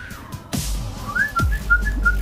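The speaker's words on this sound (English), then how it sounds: "she didn't seem to mind me whistling for some reason" A person whistles a short run of bright, clear notes up close, followed by a quick repeated whistled pattern, with no talking.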